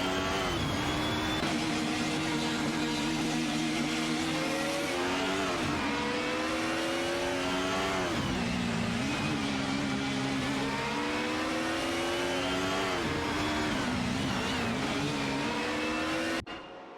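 Several BMW M3 GTR Evo race cars in an AI-driven racing video game roar loudly and continuously, their engines rising and falling in pitch through repeated gear shifts and acceleration, with no voices over them.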